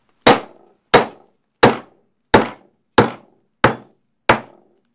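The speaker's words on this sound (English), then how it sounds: "we would just break it with a hammer." A hammer strikes a brittle bismuth ingot seven times at an even pace, each blow a sharp, close metallic crack that dies away quickly into silence.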